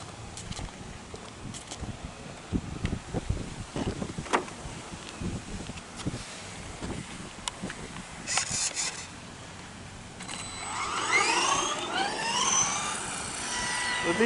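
A Redcat Camo TT RC car on smaller-diameter tires drives off and accelerates hard, its electric motor building to a rising whine near the end after mechanical clicks and rattles.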